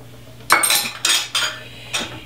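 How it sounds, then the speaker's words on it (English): A teaspoon of salt goes into a pan of tomato sauce, giving several close metallic scrapes and clinks of the spoon against the pan in a steady rhythm, with no talking. "I'm going to put in a whole teaspoon of salt because that really brings out the nice rich flavor of the tomatoes."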